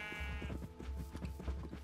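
Sheep in the Minecraft video game bleat in a short, wavering cry at the start, followed by a run of rhythmic low thumping steps, all fairly quiet and with no talking.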